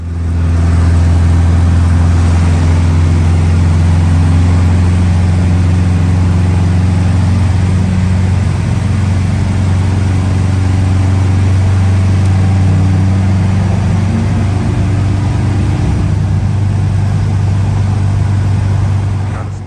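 A car cruises along the Blue Ridge Parkway, its engine drone and road rumble loud, steady and close from inside the cabin for the whole stretch.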